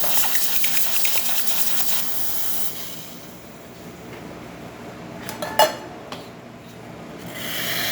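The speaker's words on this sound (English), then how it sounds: "And hot water flowing the way it's supposed to." Steady hissing rush of hot water from an espresso machine, loud for a few seconds and then settling into a quieter flow, with a single sharp clink of a cup partway through.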